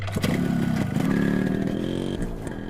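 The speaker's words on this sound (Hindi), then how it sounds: "अपनी स्कूटर पर घर के लिए निकलते हैं" A small scooter engine hums and revs close by, its pitch rising and falling steadily as it pulls away, with a little rattle.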